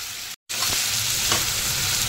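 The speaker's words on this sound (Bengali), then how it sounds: "আলু, পেঁয়াজ আর টমেটো ভালো করে ভেজে নিয়ে" Potato, onion and tomato fry in oil with a constant loud sizzle and a few stirring scrapes, close by, broken only by a short cut to silence near the start.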